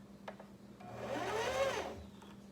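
Sewing machine stitching while run by a foot pedal, a steady mechanical whir that rises in speed and holds for about a second before slowing, close up with no talking.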